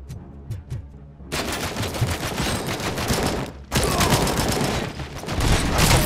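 Rapid rifle gunfire from the video game Robocop Rogue City, loud sustained bursts of shots after a few sparse single cracks, with a short pause before another long volley.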